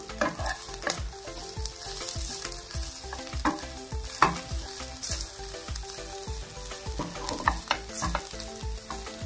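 Cooked fish pieces get stirred into a sizzling masala in a pan, a steady fry hiss punctuated by regular rhythmic spatula scrapes and clinks, close and even throughout.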